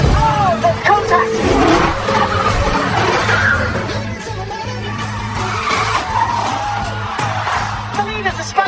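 Racing cars collide and spin out, with tyres squealing and engines revving loudly in a chaotic burst, and a commentator talking excitedly over the noise.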